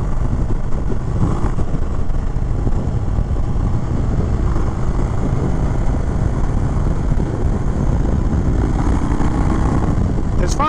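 A 2021 Indian Chief Bobber Dark Horse motorcycle engine rumbles steadily and loudly throughout a test ride, with dense low-end roar and wind rush, no pauses.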